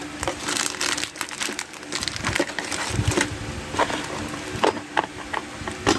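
Crinkly plastic packaging of a Takara Tomy Bushin Ashura Beyblade being cut open, with close, irregular crackling and rustling bursts throughout.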